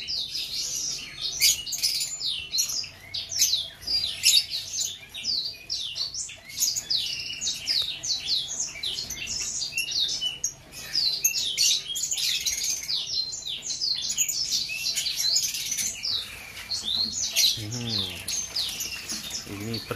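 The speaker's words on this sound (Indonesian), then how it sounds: "untuk diternak lagi murai batu asli Aceh" Murai batu, the white-rumped shama of Aceh stock kept for breeding, sings in rapid bright chirps and whistled phrases almost without pause, with faint background noise and a brief low rumble near the end.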